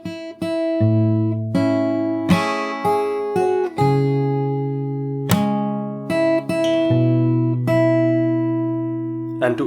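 Plucked acoustic guitar notes picked fingerstyle, playing a song, a melody over ringing bass notes with steady, unhurried phrasing, close and clear.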